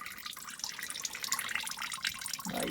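Water trickles and splashes steadily out of a small hole punctured in a waterlogged boat headliner, a close continuous running-tap sound with irregular drips and a slight gurgle near the end.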